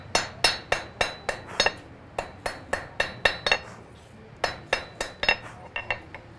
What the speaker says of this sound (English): by hammering it from a round piece to a square piece